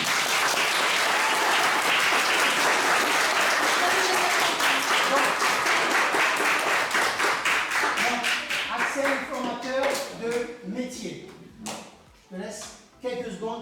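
An audience at a French explorers' camp gathering applauds a guest, dense loud clapping that holds steady and then thins into scattered individual claps as it dies away.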